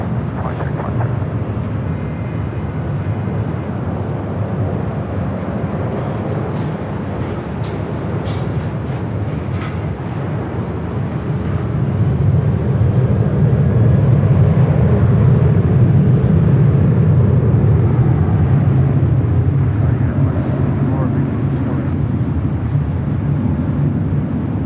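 Southwest Airlines jetliner taking off from runway 24 left at Los Angeles International Airport, a steady broad engine roar that swells louder midway and holds, heard from a distance with faint radio chatter.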